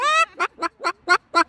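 A cockatoo mimics a chicken's bok, first with one drawn-out harmonic call, then five short, evenly spaced, clucking boks, loud and close with no talking.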